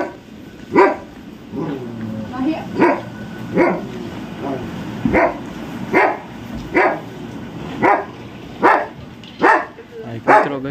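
Repeated loud dog barks, about a dozen in a steady rhythm, ring out close by in an outdoor rural spot near horses, with faint background noise between them.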